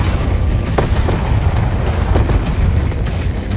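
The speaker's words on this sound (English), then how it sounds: "Am I supposed to just avoid explosions?" Dull booming explosions thud repeatedly within a loud, dense rumble of Call of Duty: Black Ops 2 game noise, with several sharper blasts standing out.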